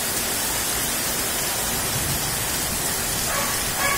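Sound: heavy rain at night in Chennai

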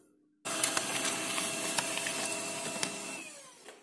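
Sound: printer printing on glossy paper

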